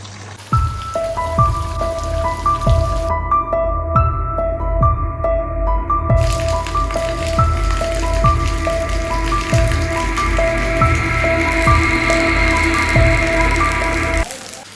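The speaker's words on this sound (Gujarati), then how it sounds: "ધીરે વરસાદ ચાલુ થયો" Rain falls steadily in a rural village, a dense, even patter on surfaces that runs the whole time, joined by a repeating tonal, rhythmic sound in the background.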